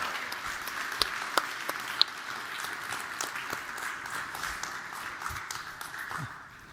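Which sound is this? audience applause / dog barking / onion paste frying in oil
audience applause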